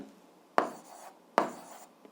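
Pen scratching numbers onto paper during an algebra exercise, two short close strokes each starting with a sharp tap and trailing off into a faint scratch, quiet with no talking.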